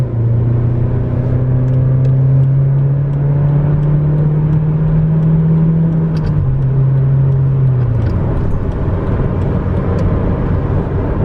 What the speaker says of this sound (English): Let's give it a quick acceleration test